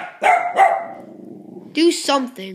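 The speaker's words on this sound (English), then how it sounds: "I'm sorry, that's our dog." A household dog lets out two loud, close barks, followed by a person talking.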